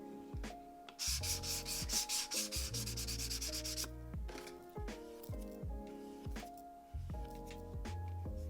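Sanding a leather card holder between coats of finish, a burst of rapid rubbing strokes over soft background music, then quieter intermittent scrubbing.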